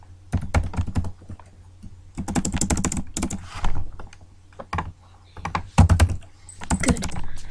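A password is typed on a computer keyboard in quick, close clattering bursts of keystrokes separated by short pauses, with a few heavier key thumps.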